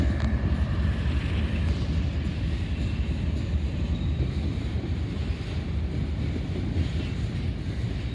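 A long, heavy freight train hauled by an ES44AH locomotive working hard as it rolls slowly past in Greenwich, Ohio, giving a steady, loud low rumble with wind buffeting the microphone throughout.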